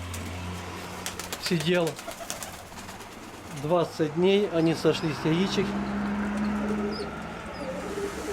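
Domestic pigeons cooing in a loft, several rolling, bubbling coos rising and falling close by, while someone talks over them and a low hum sits underneath.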